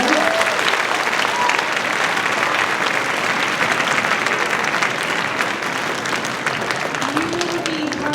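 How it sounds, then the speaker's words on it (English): A large audience applauds steadily and loudly at a junior high school orchestra concert, with dense, sustained clapping throughout. "one big round of applause"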